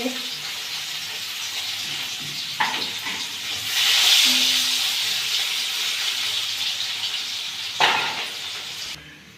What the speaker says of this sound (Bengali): দেখো আমার পেঁয়াজটা লাল লাল করে ভাজি হয়ে গেছে